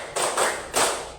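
Class of pupils clapping in unison, a few sharp, fairly loud group claps spaced out in a slow count, with brief room reverberation after each.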